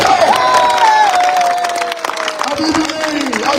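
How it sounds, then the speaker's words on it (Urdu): A crowd at a political rally in Lahore claps and cheers loudly and continuously, with a voice calling out over the applause. "تالیاں بجائے"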